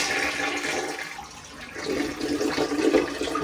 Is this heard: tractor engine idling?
no